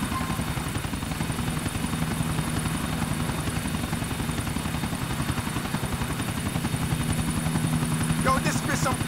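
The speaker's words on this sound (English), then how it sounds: "I have the feeling you don't want to be responsible for a helicopter crash in Middle Park." A helicopter in Grand Theft Auto IV flies with a loud, steady rhythmic rotor chop and engine drone throughout, with brief sharp sounds near the end.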